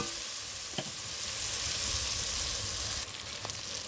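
Tomatoes fry with salt in a hot pan, giving a steady close sizzle throughout, with a couple of brief clicks and light stirring knocks over it.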